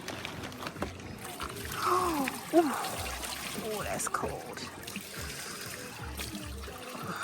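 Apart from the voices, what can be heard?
water flowing at Dunn's River Falls, Jamaica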